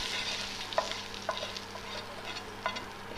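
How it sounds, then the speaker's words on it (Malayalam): Grilled capsicum, tomato and onion being stirred into chicken for kadai chicken, a faint close scraping and soft sizzle with a few light clinks of the spoon, no voices. "ചിക്കനിനകത്തേക്ക് നമ്മൾ ഈ ഗ്രില്ല് ചെയ്ത ക്യാപ്സിക്കവും ടൊമാറ്റോയും സവോളയും കൂടെ മിക്സാക്കി വെച്ചു."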